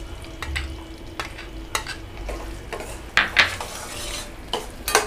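Puffed rice mixed with cardamom, roasted gram and coconut is stirred in a pan, giving scattered scraping and rattling strokes of a spatula against metal with light crackle between them, close and alone.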